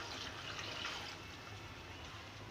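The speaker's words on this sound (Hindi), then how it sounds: "पानी डाल दूँगी और ये पानी 2 गिलास पानी है जो मैं इसमें डाल दूँगी" Water is poured from a glass into a pot of aloo gosht curry, a quiet, steady splashing hiss that lasts a few seconds.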